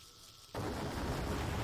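Controls being destroyed in Final Fantasy IV, a sudden loud burst after a quiet moment that holds as a rumbling, crackling roar.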